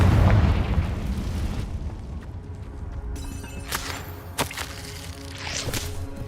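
A Confringo fire spell in Hogwarts Legacy bursts with a heavy, booming explosion that fades into a lingering rumble, followed by a few sharp cracks and pops.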